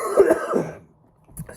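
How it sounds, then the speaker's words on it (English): A man in the Arctic Circle wilderness gives a short, dry cough, two quick rough bursts close to the listener, followed by a brief pause and a faint breath. "I got this dry cough, sorry."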